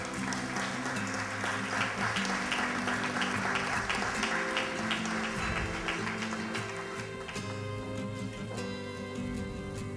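Audience applause at a Women's Day ceremony held by the Miraflores municipality, with steady, dense clapping sustained throughout at moderate distance and no talk over it.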